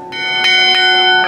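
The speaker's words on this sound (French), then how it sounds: "Ces 2 cloches de bronze de 60 et 160 kg ont été bénies à l'issue d'une messe" Bronze church bells of 60 and 160 kg ringing in Monaco, bright sustained tones with three clear strikes ringing out and overlapping, loud and close.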